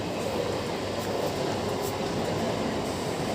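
A train passes near a city rooftop, heard as a dense, continuous roar of rolling wheels and carriages that holds steady and loud throughout, with no talking.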